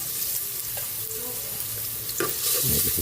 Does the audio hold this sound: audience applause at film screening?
no